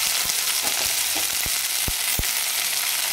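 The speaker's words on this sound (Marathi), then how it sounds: "1 मिनिटभर आपण परतून घेऊया।" Tandulja (amaranth) greens bhaji is sautéed in a pan, with a loud, dense, continuous sizzle and a series of quick spatula taps against the pan. No one speaks.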